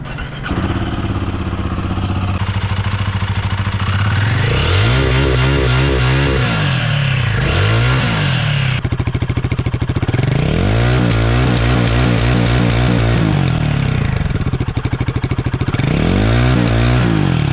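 A Royal Enfield Guerrilla 450 engine (452cc liquid-cooled single-cylinder four-stroke) runs loudly and close up, thumping steadily, with a few blips of throttle rising and falling.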